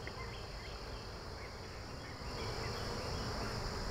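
Honeybees in an opened hive make a constant, close, even buzzing drone that carries on throughout without pause.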